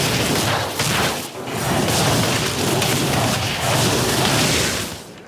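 Arcane Missiles spell impacts in World of Warcraft Shadowlands, cast by an Arcane Mage while questing: a dense, loud, continuous wash of crackling, whooshing magical blasts that swells and briefly dips over about five seconds.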